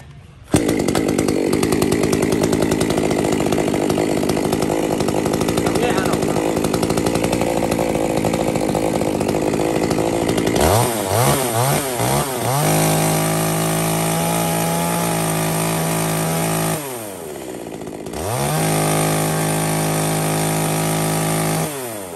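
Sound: Makita ME230T 23cc chainsaw running

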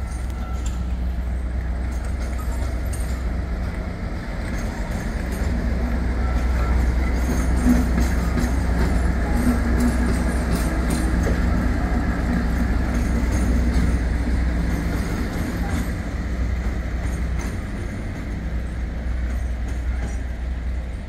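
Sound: DC Rail Freight locomotive 56091 passing with a freight train

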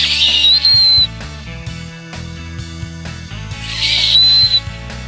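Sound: high-pitched human whistle to call river dolphins

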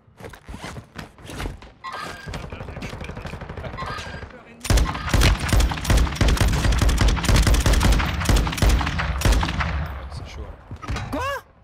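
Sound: sniper gunfire in video game Warzone 2

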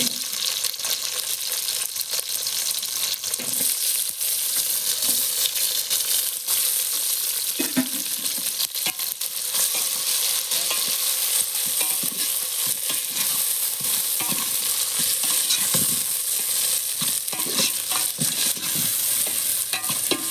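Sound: tomatoes frying and being stirred in a pan

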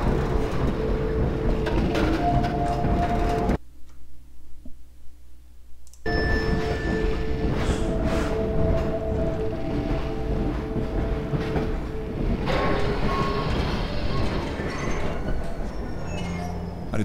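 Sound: train riding in video game Half-Life 2

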